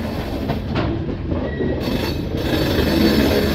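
Padatik Express (New Alipurduar to Sealdah) rolling slowly into Bardhaman station before dawn, a steady low rumble of railcars with faint wheel clatter and light squeal, continuous and fairly close, no talking.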